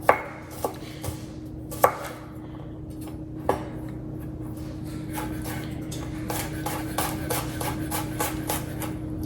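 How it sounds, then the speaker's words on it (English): A knife chops finely through potatoes on a cutting board for a crispy potato snack, giving sharp isolated knocks at first, then a fast, steady run of close, crisp cuts over a low background hum. "I'm going to just chop these up really fine."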